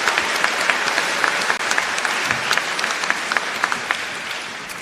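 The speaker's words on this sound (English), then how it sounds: "Let's have another round of applause for our amazing graduates." Graduates at the Nicholas School undergraduate commencement ceremony receive a sustained round of close, loud applause from the audience, dense clapping with a few sharper claps standing out.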